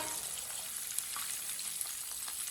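Chicken browning in a pan for an Eid recipe, giving off a steady close sizzle with faint scattered crackles throughout, no voices.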